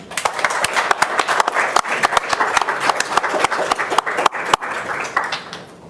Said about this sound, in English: I'd like to ask everybody here to give you a round of applause